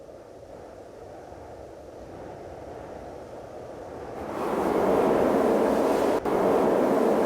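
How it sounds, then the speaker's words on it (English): Strong wind blows as a steady, rushing roar that swells noticeably louder partway through and stays broad and full to the end. "suddenly the wind began to blow very strong"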